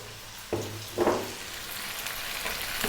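Three cups of fresh tomatoes drop into a hot pan for fried rice, raising a soft sizzle with a couple of brief clattering stirs at close range and no voices.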